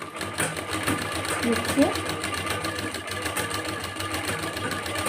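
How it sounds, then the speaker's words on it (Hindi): A sewing machine stitches along the folded edge of fabric to make a drawstring, running with a steady, close, whirring mechanical hum. Someone speaks briefly over the machine. "फिर किनारे किनारे उसी तरीके से हमें सिलाई चलाते जाना है।"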